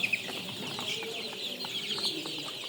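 A sick Sonali chicken in poor condition clucks softly, a few short, faint clucks close by over a quiet barnyard background.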